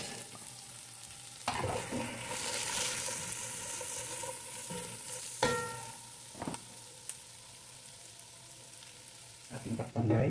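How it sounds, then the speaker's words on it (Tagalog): Sliced onions go into a pan of frying ginataang tilapia with chili, making a soft ongoing sizzle punctuated by a few sharp clanks and scrapes near the start, middle and end, close and moderately quiet, with no talking. "Sunod na natin ang mga sibuyas."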